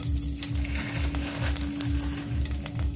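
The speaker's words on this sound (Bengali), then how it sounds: "এবারে ওই তেলের মধ্যে আমি দিয়ে দেব পাঁচ ফোড়ন" Panch phoron spices sizzle in hot oil in a pan after peanuts are fried, for a red chutney served with khasta singara. A steady close crackle fills the clip, with a faint low rhythmic background underneath.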